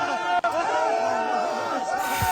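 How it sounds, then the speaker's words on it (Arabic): Saudi football fans in a stadium, a dense roar of crowd voices and chanting sustained throughout, with a person speaking nearby over it. "سمعوا الجمهور السعودي، اسمع"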